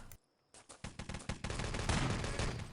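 Rapid automatic gunfire in a competitive video game match starts after a brief quiet and builds into a dense, loud burst of overlapping shots that continues to the end without a break.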